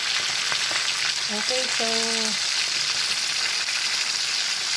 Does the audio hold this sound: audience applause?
no